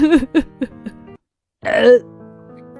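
A woman with indigestion after eating matar paneer lets out a voiced burp after a few short vocal sounds, with a brief silence between, close and fairly loud.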